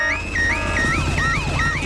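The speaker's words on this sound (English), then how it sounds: "Daddy Pig has set off the noisy house alarm." A noisy house alarm in a Peppa Pig cartoon wails with a rising and falling electronic siren that repeats several times, loud and up close, with no voices over it.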